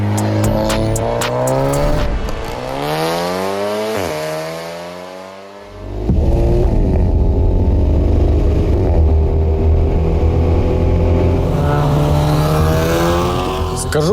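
A VW Golf 7 R 2.0 TFSI tuned to stage 2, about 400 hp, with a loud, aggressive aftermarket exhaust revs hard, dips briefly, then roars back up and holds a rough, raspy drone close by.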